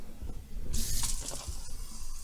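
Fresh parsley rinsed under a running kitchen tap, a close, hissing stream of water that starts abruptly and keeps flowing steadily for a couple of seconds with no talk.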